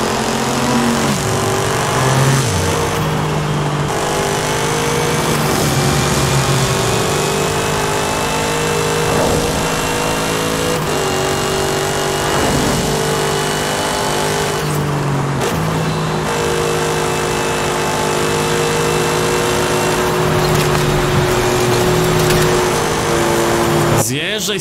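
Car engine in the racing game Forza Horizon 5, driven with a steering wheel, droning and revving steadily and loudly throughout with shifting pitch, under an intermittent voice talking.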